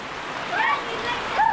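A rain shower in the Konkan countryside makes a continuous hiss of falling water, with voices talking over it.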